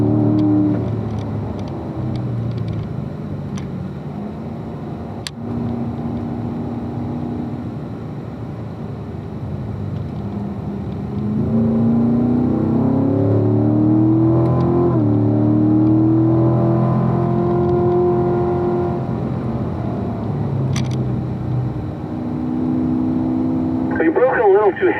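Race car accelerating hard out of a corner on a track, its engine note rising steadily and loud throughout, with a voice talking over it.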